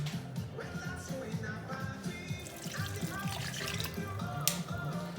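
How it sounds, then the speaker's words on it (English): Water is poured into a pot of chicken stock for red rice with chicken and andouille, a steady trickling splash running under a low background hum. "And also you're gonna add water."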